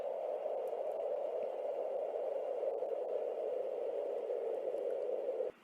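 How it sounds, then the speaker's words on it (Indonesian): A steady, hissing rush of wind blows without pause, even and moderately loud, then cuts off abruptly at the end. "itu adalah suara angin"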